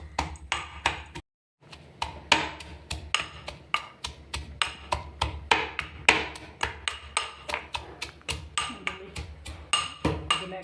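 Ginger and garlic are pounded by hand with a steady run of sharp, ringing thuds, about two or three per second, close and loud, with one brief pause near the start.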